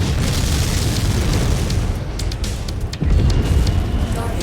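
A battlefield explosion in MechWarrior 5 as a target is destroyed, a loud, continuous low rumbling boom with a renewed surge partway through.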